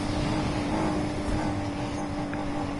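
A car engine in Need for Speed Heat holds a steady high-speed drone with nitrous engaged, a constant loud whine with no letup.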